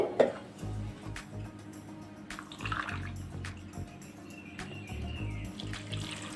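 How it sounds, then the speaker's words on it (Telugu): Water poured onto jaggery in a cooking pot makes a faint, close splashing and trickling sound with scattered clicks and knocks, with no talk. "వాటర్ కూడా కప్పున్నర పోస్తున్నాను"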